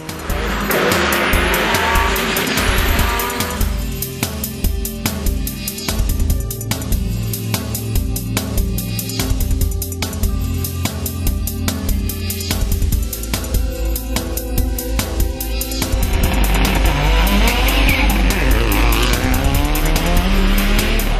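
A Mitsubishi Lancer Evo 6 rally car built from a production model climbs a mountain hill-climb course near Sopot, its engine roaring loud and close through repeated gear changes and revs, with tire squeal and skidding.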